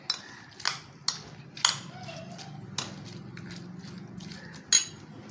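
A spoon mixing Russian salad ingredients such as apple, carrot and fruit cocktail in a bowl, with a few sharp clinks and scrapes against the dish at irregular intervals over a soft rustle.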